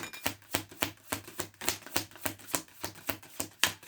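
Tarot cards are shuffled in a quick, even rhythm of about fourteen crisp slaps and riffles, close and fairly quiet with no talking.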